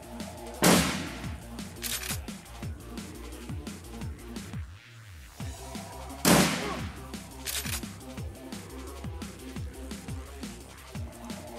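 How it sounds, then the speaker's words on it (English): Point-blank shotgun blasts in the video game Shadowrun Returns: two loud, sharp bursts about six seconds apart, with fainter rapid gunfire crackling steadily between them. "Point blank shotgun."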